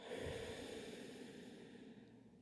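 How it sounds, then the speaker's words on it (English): A single soft exhale out through the nose during yoga breathing, a breathy nasal rush that is strongest at the start and slowly fades, quiet and close with no talking. "And exhale out the nose"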